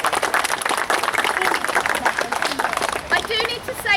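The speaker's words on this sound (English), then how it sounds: "Can we please give the children a clap?" An audience at a school garden launch claps for the children, a dense, lively burst of many hands with a murmur of voices, while a speaking voice rises near the end.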